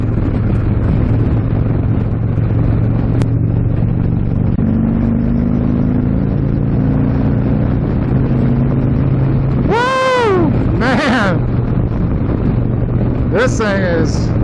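An Indian Stage 3 Thunderstroke 116 V-twin engine drones steadily under heavy wind rush while riding, then revs up sharply in two quick bursts and once more near the end.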